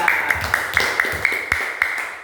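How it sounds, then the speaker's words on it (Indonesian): A classroom group claps for a student group after its presentation, short rhythmic claps in a steady patter over a faint tonal hum. "Beri tepuk tangan untuk kelompok 3"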